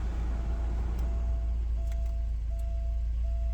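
A 1989 Porsche 944 engine running at a steady idle, a low continuous rumble with a faint recurring whine, close by and uninterrupted, with no talking.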